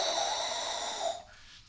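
A human voice imitates Darth Vader breathing with one raspy, mechanical-sounding breath that sustains for just over a second, then drops to quiet; no words spoken.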